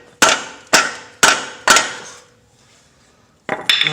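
Four sharp metallic taps on a Eurovan water pump, evenly spaced and close, each ringing briefly, then a pause and a final pair of clanks.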